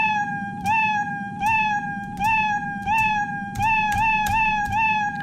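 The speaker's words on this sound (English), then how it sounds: "So now he moves 10 steps and he meows." A cartoonish cat meow sound effect from a Scratch coding block plays repeatedly, about six clear, evenly spaced meows in quick succession, each a short bright upward-then-falling tone, with faint background murmur.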